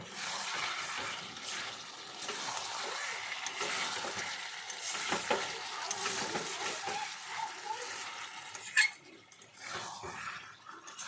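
Chicken curry with gravy being stirred in a covered pot, a steady wet sizzling and scraping texture running throughout, moderately close, with a brief sharper clink near the end.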